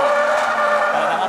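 A drifting car slides sideways with a sustained, loud tire skid and squeal, the screech steady and close, with engine noise under it, during a driver audition for a drifting and racing show.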